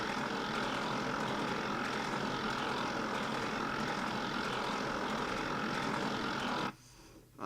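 A propeller aircraft flying in the Trainz simulator gives a steady, loud engine drone with broadband rushing noise, holding constant before dropping away abruptly near the end.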